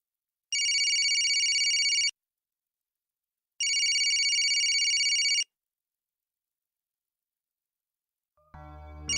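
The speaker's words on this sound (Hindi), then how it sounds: "ये तो यूसुफ के स्कूल से फोन है।" A telephone rings twice in long electronic trills separated by a pause, then another sound starts faintly at the very end.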